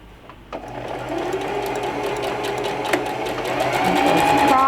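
A Singer Heavy Duty sewing machine stitches an automatic buttonhole on scrap fabric, its motor running in a steady, close, continuous whir that builds slightly louder toward the end, with no talking.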